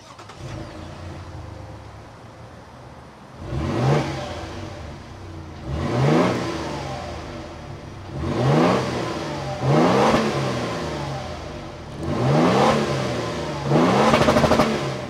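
A 2025 Toyota Tundra's 3.4-liter twin-turbo V6 idles with a steady rumble, then is blipped repeatedly, five or six short revs rising and falling at regular intervals, close by.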